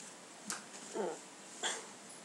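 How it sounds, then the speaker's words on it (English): A dog makes a few short yips or whimpers indoors, three brief separate bursts against a low room hiss. "Oh, and here comes the dog, too."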